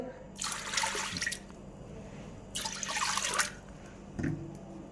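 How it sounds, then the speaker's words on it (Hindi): Water poured from a glass into a cooking pot while making daal, two splashy pours of several seconds each, then a short third splash, close and clear over a low steady hum. "और हमने 3 गिलास पानी डालने हमने, ये वाले 3 गिलास पानी डालने हमने।"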